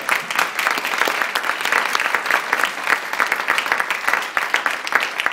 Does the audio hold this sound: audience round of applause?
yes